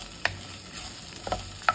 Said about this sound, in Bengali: তো এবার শুকনা মরিচ আর কাঁচা মরিচগুলো ভেজে নেব।